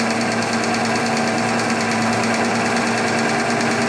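An ignition distributor spinning on a test stand at 570 RPM makes a loud, steady mechanical whir with a constant hum and rapid ticking pulses, unbroken throughout and without any voices.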